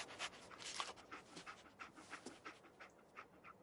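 The dog companion Dogmeat pants steadily in Fallout 4, a quick rhythmic run of breathy huffs, close and fairly quiet, with no talk over it.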